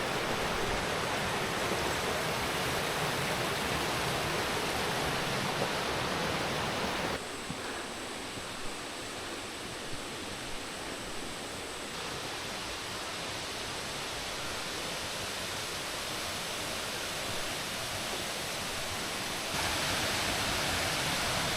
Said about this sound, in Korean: 짧지만 강렬한 이단 폭포.